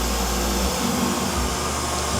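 A Neato Botvac D75 robot vacuum cleaner runs close by with a steady, unbroken whirring hum and a low rumble, with no voices over it.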